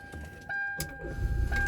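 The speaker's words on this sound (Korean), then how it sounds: "시동을 걸어 봅니다" A used diesel car engine cranks and catches in under two seconds, a brief starter whine rising into a low rumble, heard close and alone.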